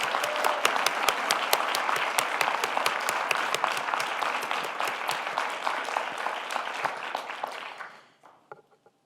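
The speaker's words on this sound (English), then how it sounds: "Let's give them all another round of applause and appreciation." Sustained applause from an audience at a federal government event on African Americans and the vote, dense clapping throughout that tapers off and fades out near the end.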